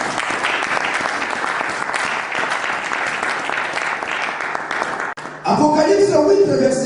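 A church congregation claps in sustained, dense applause that fills the room for several seconds, followed by a brief dip and then music and voices rising together.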